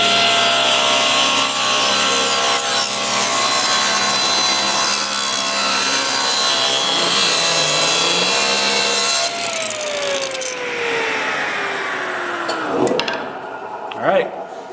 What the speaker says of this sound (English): I will go ahead and rip this real quick